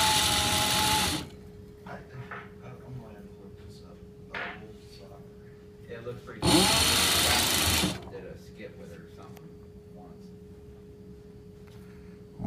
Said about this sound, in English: Now we're going to try to do some hemming